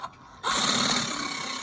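A Sawzall reciprocating saw blade drives through a Halloween jack-o'-lantern pumpkin: a sudden loud, harsh, continuous rasping buzz that kicks in close by after a quieter moment.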